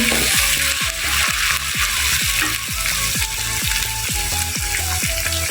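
Green chillies and paste frying in a pan for kadhi pakora, a loud close sizzle with a rhythmic series of scraping strokes from stirring, roughly two per second, with no speech.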